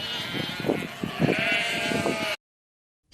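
A sheep bleats in several short, wavering cries close by, a run of bleats lasting a couple of seconds before cutting off into silence.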